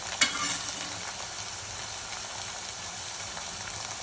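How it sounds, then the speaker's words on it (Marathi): Chicken frying with masala in a pan, stirred: a steady close hiss and crackle with one brief scrape near the start, then continuous sizzling on its own. "व्यवस्थित मिक्स करूया आणि याच्यामध्ये आपले सगळे मसाले टाकून घेऊया"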